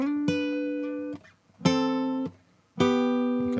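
An electric guitar plays a hybrid-picked lead line, with a pick on the lower string and a finger on the higher one, sounding three clear sustained notes with brief gaps between them.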